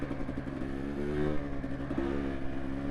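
Enduro motorcycle at an Enduro Fiesta 2024 championship event, engine droning steadily nearby with a rising rev as it pulls away, continuous and fairly loud with no talk.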